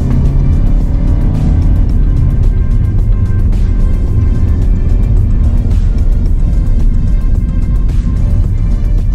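A 2023 Hyundai Stargazer accelerates, heard from inside as a loud, continuous engine and road drone that holds steady throughout with no talk.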